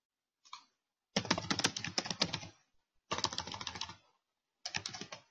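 Search words typed on a computer keyboard: three quick, crisp bursts of key clicks close by, with short silent pauses between them and a brief tap at the start.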